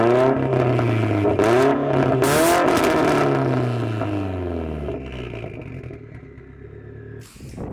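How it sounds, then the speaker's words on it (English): A Mitsubishi Evo X fitted with a Tomei exhaust runs loud and close, its deep, throaty engine note rising and falling steadily throughout with no talking. "At idle, it sounds really good."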